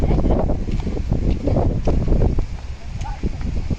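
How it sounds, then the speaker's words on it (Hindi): Strong wind gusts buffet the microphone outdoors near a parking lot after rain, a loud continuous rumbling roar with rustling, and a voice talks over it. "उड़े ही जा रहे हैं, इतनी तेज हवा है।"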